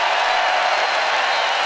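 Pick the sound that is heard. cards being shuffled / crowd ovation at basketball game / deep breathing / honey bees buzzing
crowd ovation at basketball game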